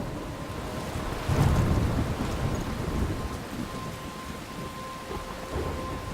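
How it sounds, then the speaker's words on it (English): Thunder rumbles over steady rainfall in a storm scene from the game Life is Strange, a loud crack near the start fading into continuous rain and light wind, with no voices. "I'm trapped in a storm?"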